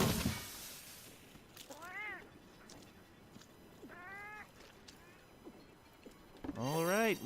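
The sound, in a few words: cats meowing in a restaurant, video game Monster Hunter World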